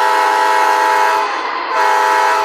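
A Märklin ES44AC BNSF model diesel locomotive sounds its horn, a loud sustained multi-tone blast that fills the whole moment, briefly dipping near the middle before holding steady again, with no talking.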